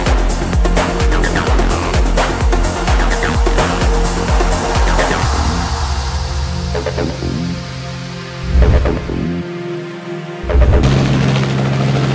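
A Robinson R44 helicopter in a crash near Talong in the Southern Highlands, Australia: loud rotor chopping and engine roar with rhythmic thumps, then a few heavy impacts and booms before the sound cuts off.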